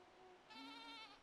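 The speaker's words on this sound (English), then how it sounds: "Lovely goats you have." A goat bleats in the video game Mundaun, one wavering, high, nasal cry heard close over a soft ambient hum, with no talking.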